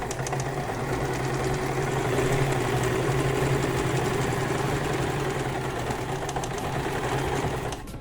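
A sewing machine stitching an open seam with the presser foot close to the edge, a steady close-up mechanical whir running continuously before stopping abruptly at the end.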